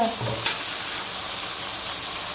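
Ginger pieces and salt frying in a pan for a paneer capsicum curry, giving a steady close sizzle with a brief stir near the start and no talk.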